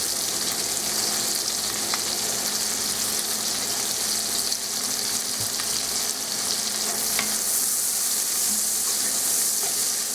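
Sausage sizzles and fries steadily in a hot pan while the batch is cooked for fajita pasta, a dense, continuous crackle that stays close and loud throughout with no talking.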